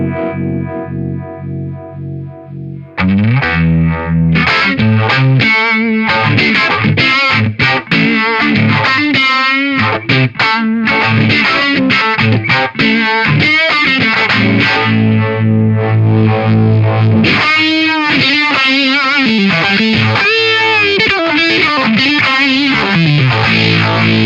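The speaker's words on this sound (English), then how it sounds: "For my Hendrixy Univibe sound, I like fairly low speed." Electric guitar played through an Eastwood Black Box pedal set to a Univibe-style effect at low speed, giving a slow, swirling, distorted tone that rings out loud and alone without any talking.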